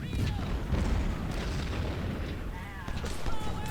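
Rumbling artillery fire and booms from the Battle of Shiloh in Ultimate General: Civil War, a continuous low roar of cannon fire with scattered sharper reports. Speech can be heard over it.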